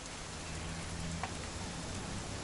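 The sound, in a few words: rain falling, from video game What Remains of Edith Finch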